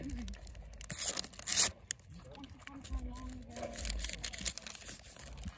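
Bakugan trading card packaging being torn open up close, with a sharp rip and crinkly plastic handling amid rustling, while a person talks intermittently.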